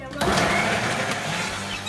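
A kitchen blender whirring to blend pineapple, melon and ice into a fruit smoothie, a loud continuous motor drone that kicks in after a brief moment and runs steadily, close up.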